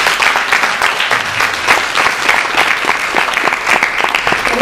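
Applause from an audience at a presentation event in Pescara, a loud, sustained wash of many clapping hands at an even level throughout.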